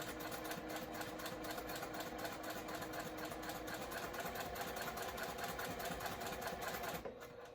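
A semi-industrial sewing machine runs at a steady pace, its rapid needle stitching forming a continuous mechanical whir with a fast rhythmic clatter close by, then slowing near the end.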